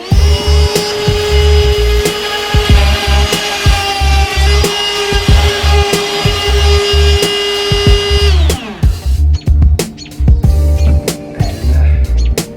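Router fitted with a hinge jig cuts a hinge mortise into an interior door, a loud sustained high whine with a steady pitch that drops and spins down near the end, with bumps and knocks from the wood and jig throughout.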